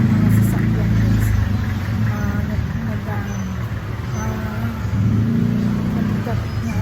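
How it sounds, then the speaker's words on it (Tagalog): Steady road noise of passing cars on a hot midday street, a continuous low engine rumble with a few louder swells as vehicles go by, while a person talks over it. "Mga sasakyan guys."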